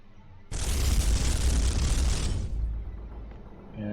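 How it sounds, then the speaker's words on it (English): Gunfire and explosions from the video game Space Hulk: The Wrath of Baal erupt in one loud, sustained blast that roars for about two seconds and then slowly trails off. "Let's just shoot."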